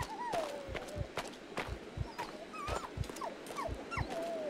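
A dog whimpers and whines in rising and falling cries in the horror video game Maid of Sker, over a dull, regular thumping like footsteps.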